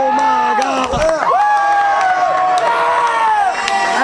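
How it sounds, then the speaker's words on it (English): A wrestling crowd at a tag team match, a loud, dense roar of cheering and shouting with wavering voices, sustained throughout with a brief dip in the middle. "The crowd is in this match, folks."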